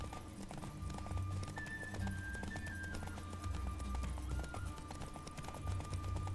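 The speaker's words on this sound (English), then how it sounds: "Don't spare the horse." Horse hooves clip-clopping at a steady gallop in The Witcher 3 video game, a continuous rhythmic pounding with occasional whinnies over a low game ambience, no talk.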